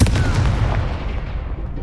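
Confringo and Incendio spells burst in a Harry Potter video game, producing a heavy, booming blast that rolls on as a thick, continuous rumble and slowly dies away.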